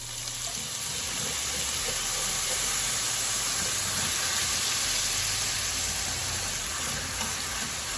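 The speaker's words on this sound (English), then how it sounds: "now I'm gonna deglaze the pan. Just a little bit of white wine" White wine hits a hot pan holding shallots and garlic, a loud, steady hissing sizzle that holds evenly for several seconds, close and without talking.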